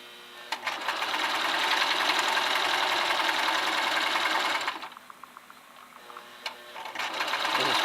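A sewing machine stitches stretchy fabric for an infinity scarf, running in a steady close whir for several seconds, then stopping. It starts up again briefly near the end, with no talking.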